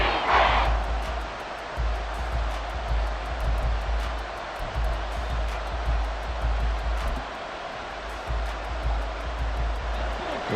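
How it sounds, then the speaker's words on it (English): A stadium crowd in the video game Madden NFL 24, Panthers versus Falcons, gives a sustained, loud roar of cheering, a dense wash of noise with swells and no clear talk. "This crowd turning up the decibel level."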